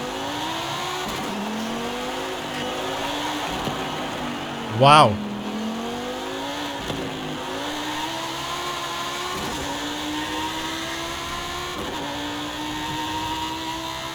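Race car V10 engine in Forza Horizon 5 droning and climbing through gear changes, a sustained close whine with a short exclamation from a voice in the middle.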